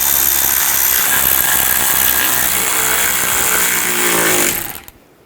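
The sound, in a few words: power tool tightening cover bolts on a Buick LaCrosse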